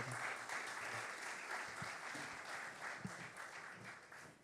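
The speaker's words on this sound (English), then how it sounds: "Ladies and gentlemen, I ask that we put our hands together." Audience applause welcoming a senator and foreign affairs minister, the keynote speaker, to the podium at the launch of a diaspora conference in Jamaica, a steady wash of many hands clapping that holds fairly even throughout.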